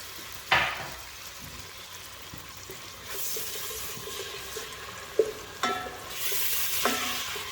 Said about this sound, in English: Now saute it a little bit.